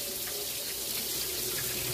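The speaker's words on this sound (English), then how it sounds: "And I'm just going to strain that water off." Water poured and strained off rinsed peas in a kitchen sink, a steady close splashing rush that runs unbroken and fairly loud throughout.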